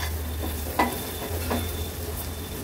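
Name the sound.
turmeric and Agri Koli masala sautéed in oil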